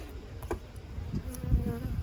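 Honeybees at a hive during a split, a soft steady buzzing hum close by with a few faint clicks and knocks, no voices.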